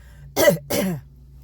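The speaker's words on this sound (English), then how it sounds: "Let me clear my throat." Two short, rough throat-clearing bursts close to the mic, separated by a brief pause, over a quiet low hum.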